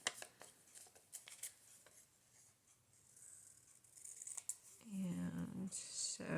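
Scissors snipping paper torn from an envelope during Christmas crafting with Rolodex cards, with soft intermittent cuts early on and a louder run of close snips near the end.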